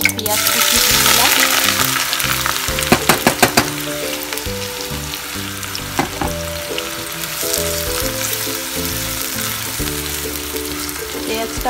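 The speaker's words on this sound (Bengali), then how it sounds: "পেঁয়াজটা ভাজা হয়ে যায়" Chopped onion sizzling in a hot pan with cumin and dried chillies, a steady close frying hiss broken by a few quick clattering stirs of a spatula.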